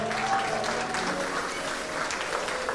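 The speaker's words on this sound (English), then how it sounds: "Would you all clap right now for her right now?" Steady applause from a church congregation fills the whole stretch, dense and even, with a faint tonal hum beneath it.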